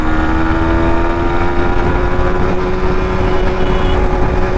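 Yamaha MT 15 motorcycle engine pulling hard in third gear, a loud, steady drone with a sustained tone held close throughout, no voices.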